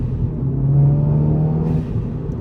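A 330 horsepower Volkswagen Polo GTI pulls hard at full throttle, a steady close engine drone rising in pitch over a couple of seconds before the note eases off.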